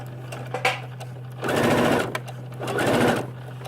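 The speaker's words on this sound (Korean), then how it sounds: "바느질 하는 과정에서 자동으로 벌려지면서 안쪽이 박히게 됩니다." A sewing machine stitches a concealed (invisible) zipper into fabric in two close, steady runs of whirring stitches, separated by a short pause with light handling noises, under a low constant hum.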